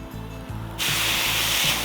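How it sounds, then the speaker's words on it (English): Loud, steady sizzling of boneless chicken thighs on a hot Blackstone griddle, a hissing spray that jumps up suddenly and stays strong, with a low rhythmic thump underneath. "That's the way we want it to sizzle a little bit."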